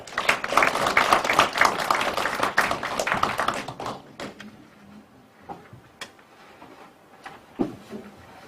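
Applause from the audience at a Goyang city policy forum on eco-friendly farming, dense clapping for about four seconds that then thins to scattered taps and room noises.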